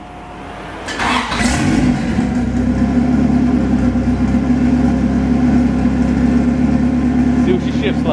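A turbo drag car with a JDM setup and a limited-slip transmission is running in a shop. Its engine catches after a brief rustle and settles into a loud, steady, rumbling idle with a throbbing low note.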